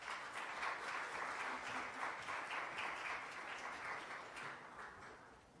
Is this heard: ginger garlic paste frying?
no